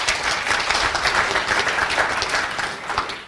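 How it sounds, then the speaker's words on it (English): A crowd applauds steadily for a few seconds, dense clapping from many hands that holds an even, loud level throughout. "give him a round of applause, because I think he deserves it"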